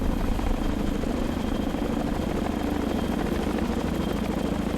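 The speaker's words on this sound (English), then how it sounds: "The Chinook makes its way to Port Said International Airport." A Chinook twin-rotor helicopter flies in the naval combat game Sea Power, its engine and rotor drone a steady, loud, unbroken rumble with no voices.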